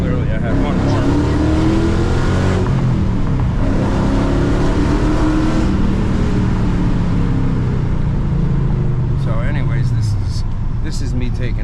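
Dodge Challenger accelerates on city streets, a loud close engine roar rising and falling through gears over constant road and wind rush, with a voice talking over it.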